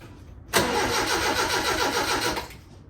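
A small turbocharged blow-through engine fires up for its first start, cranking into a loud, close, throbbing run for about two seconds before cutting off abruptly into quiet.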